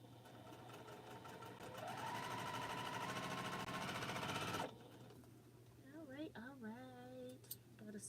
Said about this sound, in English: So we keep sewing. And we keep sewing.